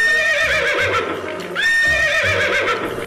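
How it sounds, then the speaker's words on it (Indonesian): A horse neighs in a video game, two loud shrill whinnies that each rise and then shake downward, with faint hoof-like thuds underneath. "Yang ini si Kencang Lari, teman-teman. Kuda."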